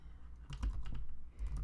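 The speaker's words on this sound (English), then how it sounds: "it's so odd that I can't type and talk at the same time." Fast, close typing on a computer keyboard, a quick burst of light clicking keystrokes over a quiet room hum, with no talking.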